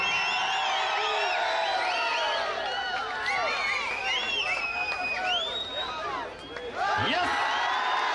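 A dense crowd at a taluk-level kabaddi final in Anekal, Bengaluru, between SBKC Anekal and Sunil Boys, whistles shrilly and repeatedly with claps and cheering throughout, while a commentator talks over the loud, continuous din.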